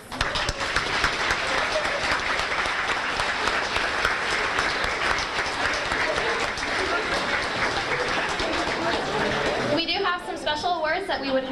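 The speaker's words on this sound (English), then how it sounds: "I think all these girls definitely deserve a huge round of applause" A banquet audience at a high school winter sports event gives the girls a loud, sustained round of applause that fills about ten seconds before a voice begins speaking over the thinning clapping.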